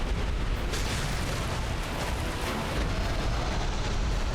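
Fire blazing in Dark Souls, heard as a loud, dense, continuous roaring rush with no pauses, steady across the whole stretch.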